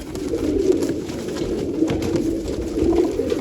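Pigeons coo continuously nearby, a low, throaty, overlapping murmur of several birds, steady throughout.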